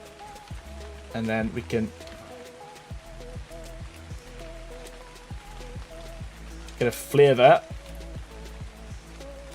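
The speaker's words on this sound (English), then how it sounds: "the rain's really helped as well to set the mood" Rain falls steadily in the video game Ark Survival Ascended, a soft continuous patter beneath someone talking, with scattered in-game clicks and knocks over it.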